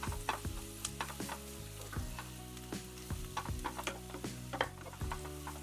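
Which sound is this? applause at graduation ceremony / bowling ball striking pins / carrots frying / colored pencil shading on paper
carrots frying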